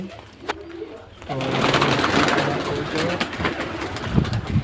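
Pigeons coo steadily in a loft, several birds with soft rolling calls close by, with a voice talking faintly among them.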